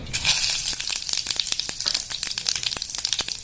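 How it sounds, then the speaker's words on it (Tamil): Cinnamon, cloves and fennel seeds frying in hot oil for tomato rice: a steady, close sizzle with frequent sharp crackles and pops scattered throughout. "சூடானதுக்கப்புறம் இப்போ இது போட்டுடலாம். பட்டை, கிராம்பு, சோம்பு"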